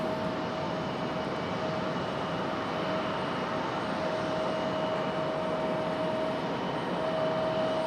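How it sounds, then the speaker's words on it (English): Air Force One, a jet aircraft, passes at Raleigh-Durham International Airport with a loud, continuous roar and a steady whine over it. The sound holds evenly for the whole stretch, with no voices. "It's Air Force One."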